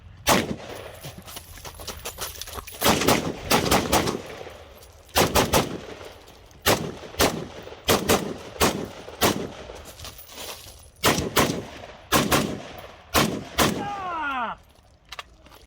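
Zastava ZPAP M70 AK rifle fired in a shooting match, loud close gunshots in pairs and short strings separated by pauses, ending with ringing metallic echoes.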